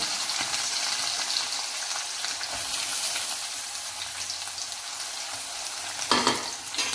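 Mustard seeds, ginger and garlic sizzling in a pan of hot oil for a Kerala-style chicken curry: a steady, close frying hiss that swells briefly near the end, with no talking.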